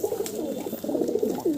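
Pigeons at a pigeon sale in Kolkata cooing nearby, a soft continuous overlapping burble of low calls with no talking.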